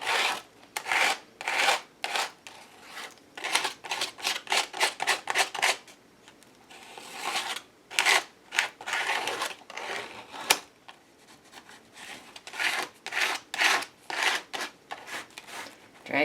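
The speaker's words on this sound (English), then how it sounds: "Putting some ochre on this fun page with the texture paste." Ochre texture paste spread and dragged across paper pages, heard as repeated close rasping strokes in uneven bursts with short pauses between, no talk.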